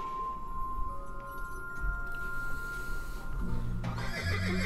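A horse gives a drawn-out neigh in a Doctor Who episode set aboard a spaceship, rising near the end over a low steady hum.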